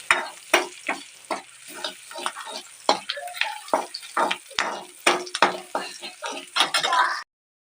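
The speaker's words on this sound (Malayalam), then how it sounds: "ആ ബട്ടറിലോട്ട് തന്നെ ഞാൻ കുറച്ച് കറിവേപ്പിലയും കുറച്ച് ചതച്ച ഉള്ളിയും കൂടി ഇട്ട് ഒന്ന് വഴറ്റിയെടുക്കുവാണ്" Curry leaves and crushed onion sauté in butter for a homemade mutton soup, sizzling steadily while a spatula scrapes and clanks against the pan in irregular strokes, close and fairly loud, then stopping abruptly.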